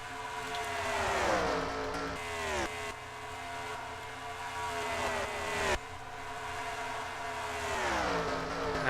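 Race cars in an oval-track racing video game at California, engines roaring and whining past in repeated pitch sweeps as several cars battle for position, loud and continuous with no talk.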